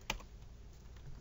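A single crisp tap on a computer keyboard, followed by a quiet room hum.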